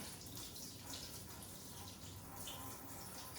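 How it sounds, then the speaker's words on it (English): Water runs steadily from a kitchen tap in a continuous, even hiss of flow, faint and without pauses. "Look at that! We have water."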